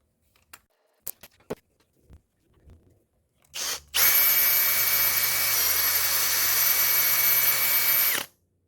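A power tool hones out an O-ring groove in a dipstick part. A few scattered clicks and taps come first, then a short burst, then a loud, steady grinding whir that runs for about four seconds before stopping.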